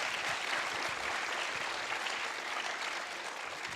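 Sustained applause from an audience at a school board of education meeting, steady dense clapping throughout, fairly quiet and even with no talking over it.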